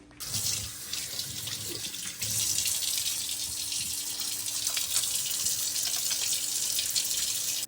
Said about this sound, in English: After this, now you want to wash your hands.